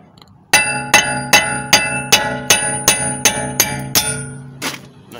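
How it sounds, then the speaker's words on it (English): A hammer strikes a steel wheel stud on a car hub about eleven times in a steady rhythm, each blow a sharp metallic ring with a short decay, loud and close with no talking. "So all you do is you take a nice hammer."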